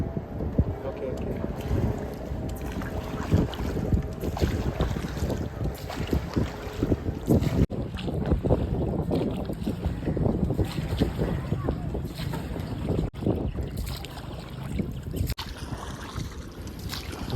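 Boat moving across open water at Muttukadu on the ECR near Chennai, with steady wind buffeting the microphone and a continuous low engine-and-water rush throughout, near and fairly loud; no clear talk.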